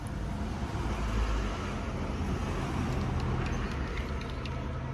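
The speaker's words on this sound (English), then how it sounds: "there are so many cars coming past, so there's so much background noise" Cars and heavier vehicles roll past on a busy road, a continuous close roar of tyres and engines that swells as individual vehicles pass, with no voices.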